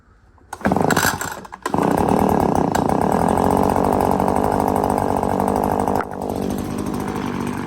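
A handheld leaf blower is started, with a short burst of pull-start sputtering before it catches and settles into a loud, steady, close two-stroke drone that dips slightly toward the end.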